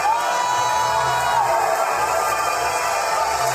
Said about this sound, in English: Oh, the crowd goes crazy.